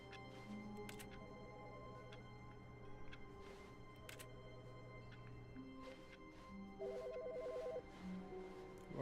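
A phone rings in an old video game, a faint electronic ringtone repeating in short bursts over quiet background music, with no talking.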